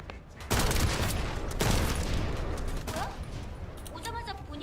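Rapid video game gunfire rattling in bursts, with two heavy opening blasts followed by a sustained crackle, and a voice talking over the shooting near the end.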